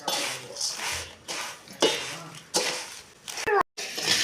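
Flattened rice being mixed in a metal vessel for spicy avalakki, bursts of scraping and clattering strokes separated by short pauses, close and fairly loud.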